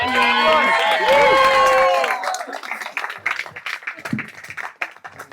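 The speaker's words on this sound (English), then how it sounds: "Round of applause for Jeff." Wedding guests at a reception during the speeches break into a round of applause: loud cheering and whooping voices at first, then scattered clapping that thins out and fades.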